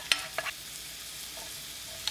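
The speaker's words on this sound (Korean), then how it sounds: "식용유 2스푼, 다진 마늘 반 스푼 넣고 센 불로 10초 볶습니다" Minced garlic stir-fried in a couple of spoons of cooking oil over high heat for kimchi fried rice, a soft steady sizzle with a few quick scraping strokes of the spatula, faint and close.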